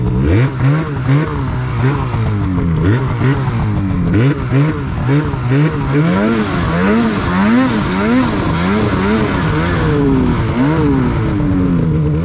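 A loud off-road vehicle engine, fitted with a stock-exit Sidekick muffler, revs up and down repeatedly, rising and falling pitch in quick cycles, close by and continuous.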